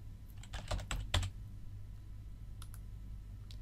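Quiet clatter of computer keyboard typing, with a quick run of keystrokes followed by a few sparse, faint clicks.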